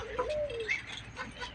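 Pigeons or doves coo softly while feeding, with a few short calls close by over a faint rumbling background.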